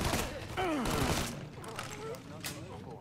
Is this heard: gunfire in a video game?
yes